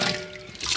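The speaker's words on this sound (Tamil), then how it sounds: "இப்போ அதே வட்டாலே தண்ணி அளவு தண்ணி ஊற்றிக்கலாம்" Water poured into a pot for a large batch of pineapple kesari, a short, close, splashing gush of liquid with no talking.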